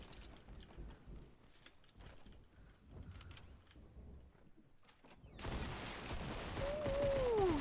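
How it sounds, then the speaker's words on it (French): Gunfire in Fortnite Battle Royale: faint, scattered shots crackle in the distance, then a louder, denser burst of fire and game noise takes over near the end. "ça tire à balles réelles"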